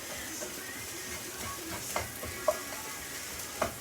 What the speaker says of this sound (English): And so I'm going to move my onions around, because I don't want them to burn.